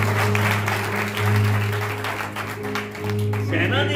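Church congregation clapping along at a Holy Jesus Fire Church service, a steady wash of hand claps held over a sustained droning keyboard tone, with voices underneath.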